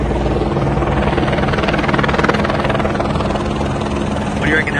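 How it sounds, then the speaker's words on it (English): A helicopter's rotor and engine thrum loudly and steadily throughout, close by, near the Docklands exhibition centre, with people chatting over it. "Do you like helicopters?"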